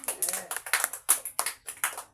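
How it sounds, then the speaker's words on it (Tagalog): Audience clapping at a celebration event, a run of bursty, uneven claps in repeated waves, fairly close and moderately loud, with voices mixed in. "Pumalakpak na ni Dimana."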